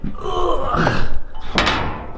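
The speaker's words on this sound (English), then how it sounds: "The idea with having a door that heavy was literally for safety reasons" A heavy steel-framed bunker door with a welded-in nut lock, moving with a long scraping grind and ending in a sharp metallic clank, close and fairly loud with no voices.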